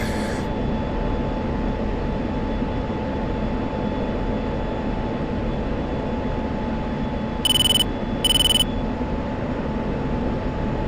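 An F-16 jet flying in the DCS flight sim game, a steady loud engine roar and rushing air that holds unchanged throughout, with two short electronic warning tones near the end.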